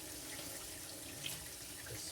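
Very hot tap water running into a sink while a gyuto kitchen knife is rinsed, a faint steady hiss and splash with no talking.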